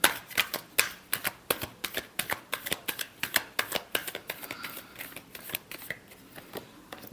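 A deck of cards gets a final shuffle: a quick, steady run of crisp riffling clicks, close and fairly soft, with no voices.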